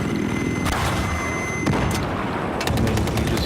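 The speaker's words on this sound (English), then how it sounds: "And then you just finish it off with your guns." Helicopter guns in a video game pour rapid gunfire at a vehicle, loud bursts of shots and booms layered over a constant drone of engine and battle noise.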